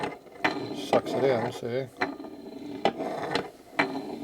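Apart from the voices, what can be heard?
knucklehead engine crank turned backwards to prime oil pump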